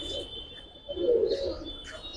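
A Giribaz pigeon lets out a swelling low coo mid-way, with faint coos around it and a thin steady whistle-like tone running in the background.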